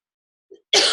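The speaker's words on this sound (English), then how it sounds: "Just cough there before I start." A single person's faint throat-clear, followed by a louder, abrupt cough that is cut off at the end.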